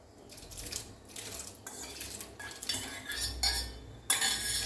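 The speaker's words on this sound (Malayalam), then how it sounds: "വേവിച്ച് വെച്ചിരിക്കുന്ന ചവ്വരിയാണ്. അത് നമുക്കിതിലേക്ക് ഇട്ട് കൊടുക്കാവുന്നതാണ്" Cooked sago tipped into beetroot payasam and stirred, with a spoon scraping and clinking against the pot in bursts, wet stirring swishes between, close up with no talking.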